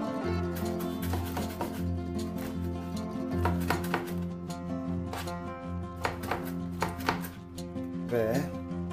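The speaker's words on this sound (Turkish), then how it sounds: "Geri kalan maydanozlarımızı da ince ince yine doğruyorum." Parsley being finely chopped with a knife on a board, a fast steady run of close, crisp cutting taps, no talk.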